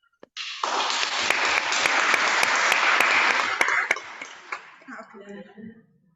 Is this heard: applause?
yes